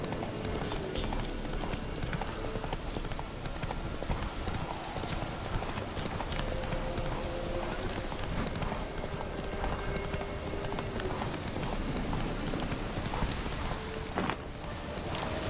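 A horse gallops in The Witcher 3, rapid clip-clop hoofbeats running continuously and loud over rain-like ambient noise in the game world.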